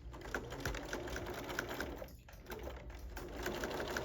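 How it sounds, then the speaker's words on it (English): A sewing machine runs steadily, stitching a zipper onto a fabric pencil pouch, with a continuous rapid needle patter that briefly dips in the middle before resuming. "And just stitch all the way down to the end."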